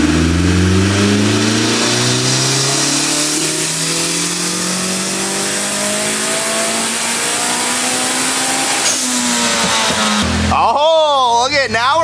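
A turbocharged car engine on a dyno pull at 20 PSI, revving steadily upward in a loud, sustained climb for about ten seconds, then dropping off as the throttle closes, with voices briefly audible near the end.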